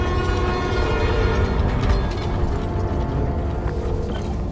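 A New York subway train in the game Spider-Man Miles Morales gives a steady, loud rumble with mechanical clatter throughout, with no voices.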